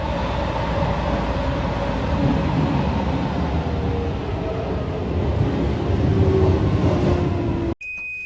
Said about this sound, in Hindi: मेट्रो आती है।